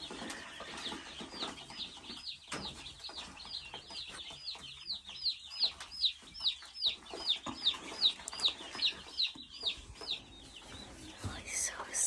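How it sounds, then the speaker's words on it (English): Baby chicks chirping close by in a hand, a rapid run of high repeated peeps that grows busier mid-way, with soft handling noise and low background sound. "This is my chicken that's been in my hand for 10 minutes."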